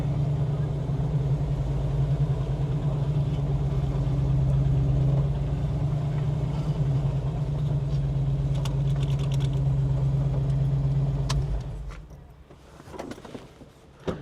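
A 1970 Plymouth Cuda 340 with a 4-speed, running on seven cylinders, gives a steady low engine drone while driving for about twelve seconds before it fades, then only light handling noises remain.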